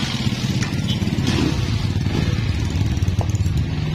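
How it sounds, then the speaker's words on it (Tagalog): A motorcycle engine idling steadily close by during repair work on a bike whose battery will not charge, a loud continuous putter with a little mechanical clatter and no talking. "Ngayon, paandarin natin ang motor."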